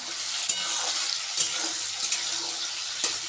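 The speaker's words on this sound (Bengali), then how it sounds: "আলু ভাজার মধ্যে একটু হলুদ দিয়ে দিলাম" Potatoes fry with turmeric in a pan over tempered spices, giving a steady close sizzle broken by four or five brief scraping knocks of stirring, with no talking.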